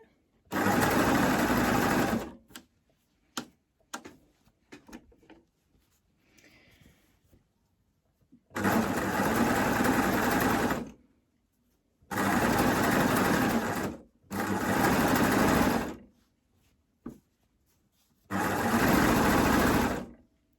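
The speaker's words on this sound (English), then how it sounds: "we're just going over that shoulder seam there." Sewing machine stitching a knit binding onto a T-shirt neck edge, passing over the shoulder seam, running in four loud, close bursts of about two seconds each, separated by quiet gaps with faint handling clicks.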